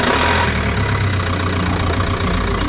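A diesel car engine converted to run on vegetable oil idles close by, a steady low, slightly knocking rumble with no talk over it.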